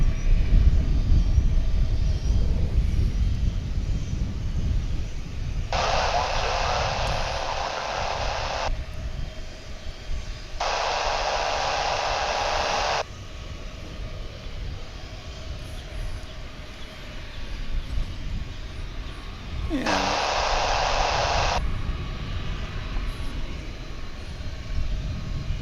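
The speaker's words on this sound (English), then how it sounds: "in the background, that JAL Dreamliner still getting in position to taxi up here to the north side" A JAL Boeing 787 Dreamliner taxis at DFW airport, heard as a steady low engine rumble in the distance, with several hissing bursts of wind-like noise over it.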